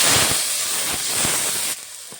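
Dry red chili, nigella seeds and five-spice mix hitting hot oil, a loud bright sizzling hiss with crackles that drops suddenly to a quieter fry near the end.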